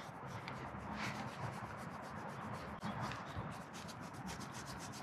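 Scratching on an Arabian horse's shoulder, a close, quiet, continuous rubbing and brushing sound with rhythmic scratchy strokes and a short pause midway, no talk.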